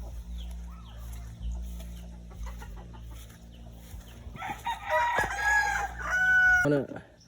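A rooster crows loudly nearby, followed by more crowing and clucking from chickens over a low background hum.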